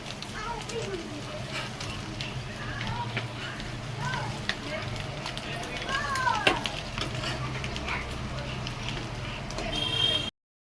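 Eggs fry in chili masala for Mumbai-style anda pav, giving a steady, close sizzle and crackle with scraping stirs throughout, while a voice talks over it.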